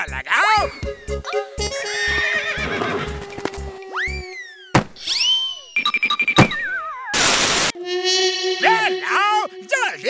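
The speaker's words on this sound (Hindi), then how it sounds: "रथ में घोड़ा लगाओ।" Cartoon horse hitched to a golden chariot gives a loud whinny among punchy thunks, bouncy cartoon sound effects and a shouting voice, a busy, close mix.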